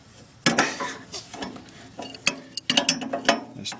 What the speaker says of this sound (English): Tighten that bolt down, and that'll tighten the blade down.